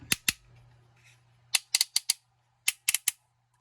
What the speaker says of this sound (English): Here's how this ratchet sounds.